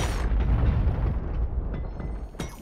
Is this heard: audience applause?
no